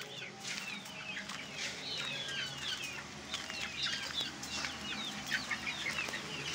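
A pet chukar partridge in a backyard enclosure gives repeated clucking calls mixed with other fowl chatter and brief wing flutters, close and busy throughout.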